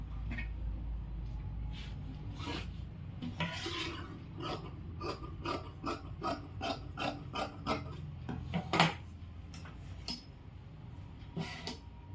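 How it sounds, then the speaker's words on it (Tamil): Scissors cutting men's shirt fabric along the shoulder line during a tailoring lesson, a rapid series of close crisp snips and rasping blade strokes, with no talk. "இப்போ இதில் ஷோல்டர் வெட்ட போகிறோம்"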